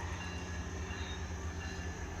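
A train rumbles past a work site, a low, steady rolling roar heard faintly from a distance with no voices over it.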